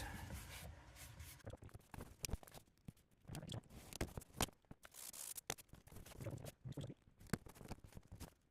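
Scissors snip through a sheet being cut for a Halloween costume part, giving a run of sharp, quiet, close cuts and rustles in irregular bursts, with no talking.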